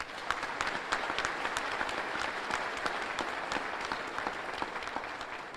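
Steady crowd applause rings out at a State of the State address in Monroe, many hands clapping in a dense, even roar that holds at a moderate level from start to finish.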